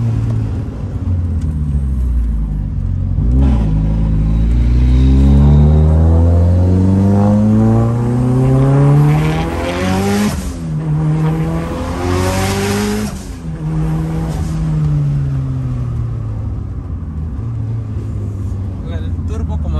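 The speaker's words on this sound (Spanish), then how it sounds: "El turbo, como suena, es qué bonito, que suena el turbo." A Mitsubishi Lancer Evo with more than 500 hp drives with its turbo engine revving loudly and continuously, pitch rising and falling through the gears, while a person talks over it the whole time.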